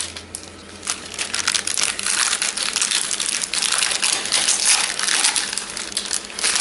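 Paper being peeled off a slab of homemade maple caramels, a close, loud crinkling and tearing rustle that runs continuously after a brief quieter start.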